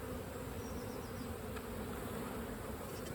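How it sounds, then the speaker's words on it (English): Honeybees droning at an open beehive during colony inspection, a steady close buzz from many insects continuing throughout at an even level. "Just take the bees off that one."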